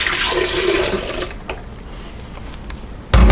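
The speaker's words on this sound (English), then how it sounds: "first I'm going to add 2 cups of stock" Two cups of vegetable stock poured into a Cosori blender jar, a steady liquid splash and gurgle running for about a second before trailing off, followed by a short loud thump.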